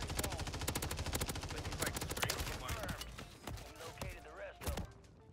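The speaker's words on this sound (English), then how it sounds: "they're shooting me and I'm there." Rapid gunfire in the battle royale game Warzone, loud and close, with dense bursts of automatic shots cracking in quick succession across the whole stretch, some louder single reports standing out toward the end, mixed with faint voices.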